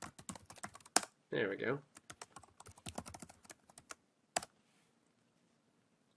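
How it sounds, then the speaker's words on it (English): Someone types on a computer keyboard to sign in, tapping quick, quiet clicking bursts while a person talks briefly, then the keys go silent. "So I'm going to sign into mine. If I could type here."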